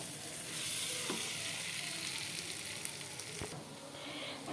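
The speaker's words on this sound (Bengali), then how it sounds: "দেখুন, এই যে আমার কিন্তু চালটা অনেক সুন্দর করে ভাজা হয়ে গেছে।" Rice fries with cinnamon and cardamom in a pan for spicy pulao, making a steady, even sizzle with a few soft scrapes of stirring, and no voices are heard.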